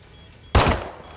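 A single sharp pistol shot rings out loud and close as Makarov shoots Soap in a Call of Duty game, its blast decaying over a short tail of echo and quiet.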